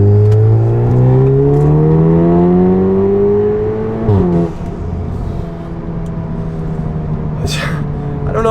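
VW Golf R pulling hard in third gear, a loud engine note climbing steadily, then a brief dip at the shift before settling into a steady lower drone, heard close and alone.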